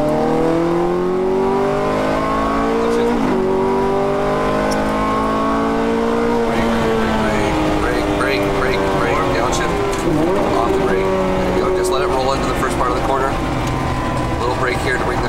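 A Ferrari F430 engine revs at full throttle through rising and falling gear sweeps, loud and continuous, with a shift near the three-second mark and tyre and track noise layered under the climbing engine note.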